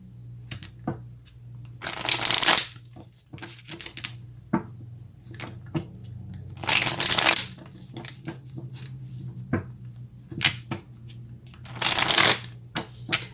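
A deck of tarot cards is shuffled for a reading, with three distinct riffling bursts a few seconds apart and lighter taps and handling sounds between them, close and fairly quiet with a low hum underneath.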